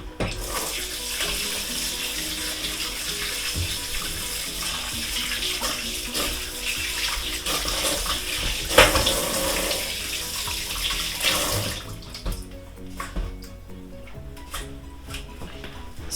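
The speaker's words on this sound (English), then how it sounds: "we're going to wash this mint" A kitchen tap runs steadily over fresh mint being rinsed for apple-and-mint infused water, a continuous close splashing rush with small shifts as the leaves are handled, then it shuts off near the end, leaving faint drips and handling noises.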